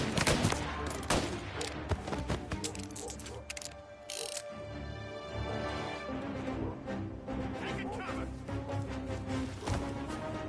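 Rapid, dense gunfire from the video game Mafia Definitive Edition, with overlapping bursts and sharp shots crackling steadily for the full stretch, loud and close, with no talking.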